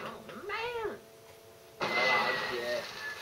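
A cat meows in a rising and falling wail, clear and close, followed by louder noisy sound with a voice over it.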